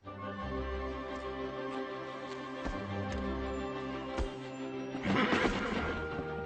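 A horse whinnies over a steady orchestral music bed, with a louder, rougher burst near the end.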